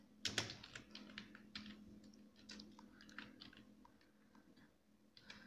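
Soft, irregular clicking of keys on a computer keyboard, with a few sharper taps and short pauses over a faint steady hum, close but quiet.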